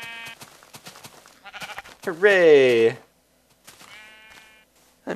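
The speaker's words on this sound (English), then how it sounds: "Oh, another brown sheep." Wavering sheep bleats from the video game Minecraft, one long loud bleat in the middle with shorter ones around it, mixed with excited speech before and after.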